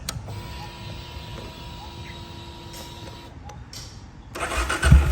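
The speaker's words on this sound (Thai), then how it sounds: "เดี๋ยวมาสตาร์ทให้ฟังเสียงของเครื่องยนต์นะครับ" A customized 2021 Benelli Imperiale 400 motorcycle in Club Style trim sits quiet with a faint hum, then a brief starter whir gives way near the end to the engine catching loudly up close.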